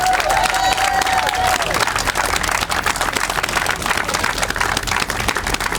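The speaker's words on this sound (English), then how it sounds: "Please join me in giving a round of applause to all the students that came today" Crowd applause for middle school students at an outdoor mural ribbon cutting, steady, fairly loud clapping with a few scattered cheers running the whole way through.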